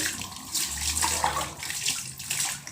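Water splashes and pours in uneven bursts as it is scooped and tipped out with a dipper, close by and fairly loud, with no talking.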